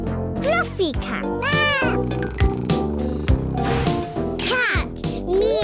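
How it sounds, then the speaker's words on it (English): A cat meows repeatedly, with several rising and falling cries close to the listener, mixed with a child's or adult's voice speaking between and over them. "Cat. Meow."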